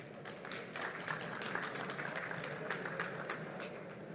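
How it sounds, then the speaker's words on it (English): Applause from a conference audience welcoming a presenter at a medical device industry event, a steady dense patter of clapping held at an even level throughout with no voices over it. "So give a big hand for Elena, an applause."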